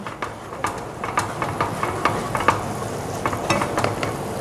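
Chopped onion sautés in heated butter for corn soup, a loud, close sizzle broken by frequent rhythmic spatula scrapes and taps against the pan.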